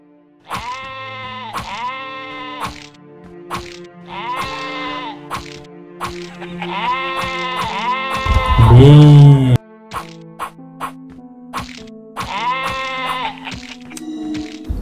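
Sheep in the King's Quest video game bleat loudly and repeatedly in short, wavering calls. A deep booming thud breaks in partway through, then the bleating goes on.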